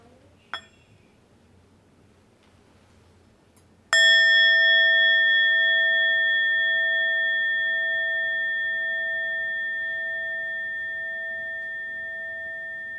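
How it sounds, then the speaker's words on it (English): A meditation bell is struck once during a Buddhist family service, ringing out with a bright clear tone that decays slowly over many seconds in a quiet room, preceded by a small faint tap. "I'd like to just invite one sound of the bell"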